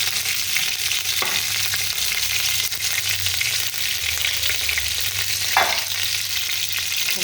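Whole panch phoron five-spice seeds hitting hot oil in a home kitchen pan, a steady loud sizzle and fry that runs throughout with brief stirring scrapes.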